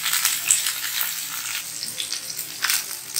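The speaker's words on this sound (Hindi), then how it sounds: "ये एक साइड से फ्राई हो जाएंगे तो फिर हम दूसरी साइड इसको पलट देंगे।" Ingredients frying in a pan of hot oil for an Arabic Mahbus dish, a continuous close hissing sizzle with small crackles and pops swelling and easing, no voices.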